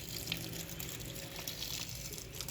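Water from a garden hose runs sideways onto soil in a home vegetable garden with tomato plants, giving a steady, close gushing flow with no pauses.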